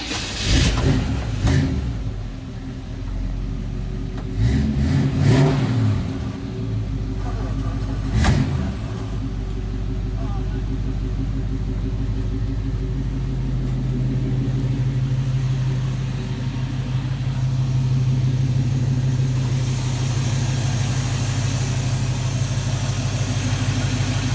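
A Chevy engine with Flowmaster exhaust in a 1951 Ford F1 truck rumbles steadily, a few throttle blips at the start settling into a long, even idle.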